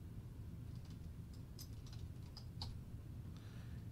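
An email address is typed on a computer keyboard, faint quick key clicks in small irregular bursts over a low steady background hum.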